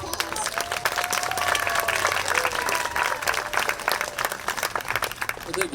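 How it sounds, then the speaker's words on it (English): An audience gives a big round of applause for Mr. Scott Peterson, the reptile presenter, at a Lacey In Tune event: dense, steady clapping lasts the whole stretch, with a voice faintly mixed in. "can we give Mr. Peterson a big round of applause?"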